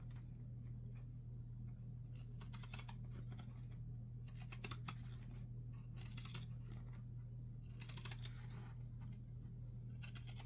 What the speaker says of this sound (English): I'm just going to cut right along that basting stitch that I had from my piping.